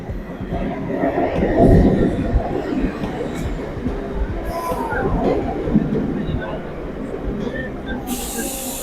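A train pulls in at platform 4 of Durgapur station, a steady mechanical rumble with clattering and brake hiss building and easing over several seconds, with busy platform ambience around it.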